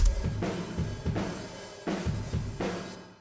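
A drum pattern of heavy kick and snare hits, each blooming into a long, washy reverb tail that makes the kit sound like it's in a huge hall.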